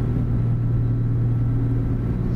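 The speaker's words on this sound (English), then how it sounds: "my retarder, I can hear it running in the background, trying to keep us down to 40" Steady low drone of a truck's transmission retarder in American Truck Simulator, holding the rig back on a steep Idaho mountain descent; a constant, loud rumble with a strong hum that holds level throughout, with no voices.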